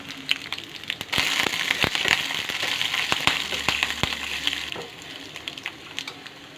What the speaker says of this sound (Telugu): పోపుని వేపుకోవాలి